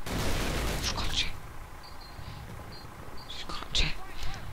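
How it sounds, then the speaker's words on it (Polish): Grenade explosions and gunfire in the video game Call of Duty, heavy booms and shots over a dense rumbling battle backdrop, with sharper blasts around the middle and end. "No, widzicie, rzucamy granaty."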